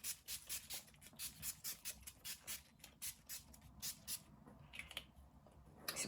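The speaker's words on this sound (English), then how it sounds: "I'm gonna spray my face with some setting spray now" Barry M Dewy Finish setting spray is misted onto a face in a quick series of short, soft hissing bursts, close and fairly faint, with a few rubbing sounds between the sprays.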